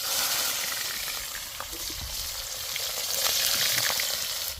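Onions sizzle and fry in hot mustard oil in a kadai with whole garam masala and a bay leaf, a steady loud hiss with occasional stirring scrapes, no talking.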